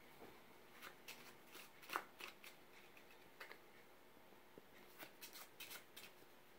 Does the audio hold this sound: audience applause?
no